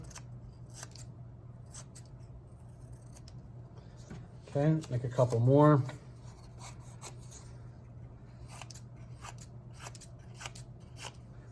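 Scissors cut paper strips for a window silhouette in a short burst of crisp snipping near the middle, amid quiet room noise, with a person speaking briefly.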